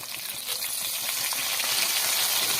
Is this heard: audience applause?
no